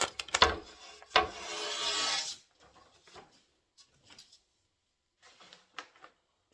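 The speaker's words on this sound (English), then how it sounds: "And I'm just going to sand it." A glass mirror panel from Lowe's has its sharp edges and corners sanded, giving two loud rasping strokes near the start and then quieter scattered scrapes and rubs.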